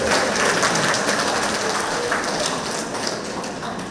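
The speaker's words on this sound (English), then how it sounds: "Give June a round of applause." Dense, steady applause from a meeting audience fills the room for June at a monthly club gathering, a continuous wash of many hands clapping at close range without a break.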